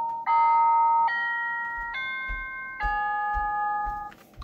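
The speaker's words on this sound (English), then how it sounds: "Slightly different ding dong. That's Westminster." A wireless doorbell plays the Westminster chime, four clear loud electronic bell notes in descending and rising sequence, each ringing on with a sustained tone before the next strikes.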